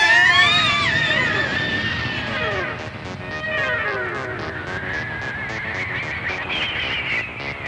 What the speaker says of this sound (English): So I suggest we start screaming.